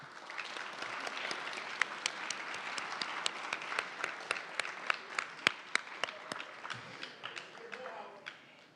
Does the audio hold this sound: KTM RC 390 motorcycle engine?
no